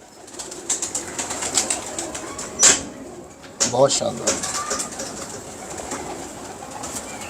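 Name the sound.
pigeons cooing in a loft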